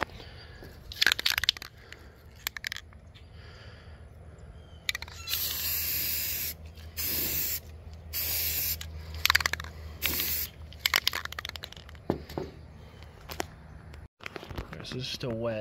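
Aerosol spray bursts of gray primer paint hissing onto an Estes Hi-Flier XL model rocket, several separate sprays of a second or two each, close and fairly loud, with quiet handling noises between them.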